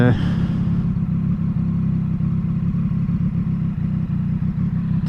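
Triumph Street Triple 765RS motorcycle engine running loud and close with steady mid-range rumble and a brief rev at the start, a voice talking over it.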